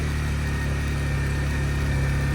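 A motorcycle engine holds a steady, loud mid-pitched drone with a firm low rumble as the bike climbs uphill, unbroken and close, with no talk.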